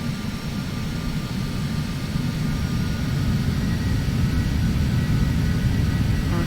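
Steady low jet engine rumble with a faint whine from a Phenom 300 business jet lining up on runway 08 in the Prepar3d flight simulator, a continuous even drone throughout with no talk.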